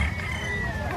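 Rooster crowing at a Saturday chicken market in Lipa, Batangas, one sustained call held close and loud over the murmur of the crowd.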